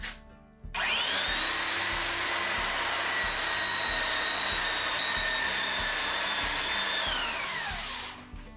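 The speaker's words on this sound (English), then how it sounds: "I'm going to run the belt sander over those just to buff those down flat" A belt sander starts with a jump and runs steadily at high pitch over plywood stops on a workbench top, a loud continuous whine with grinding abrasion that winds down at the end.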